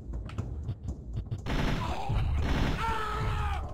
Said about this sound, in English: that's your assault rifle